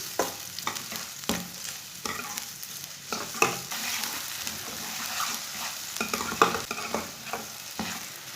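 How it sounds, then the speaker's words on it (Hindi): Chopped onion sizzles softly in oil while frying for an egg curry, broken by repeated clicks and scrapes of stirring; no voices. "बारीक कटा हुआ प्याज डाल लेंगे। प्याज को ना 2 मिनट तक भून लेंगे।"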